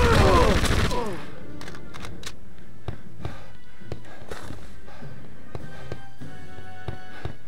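Gunshots from the video game Indiana Jones and the Emperor's Tomb: a loud burst at the start, then scattered sharp single shots and taps, fairly close.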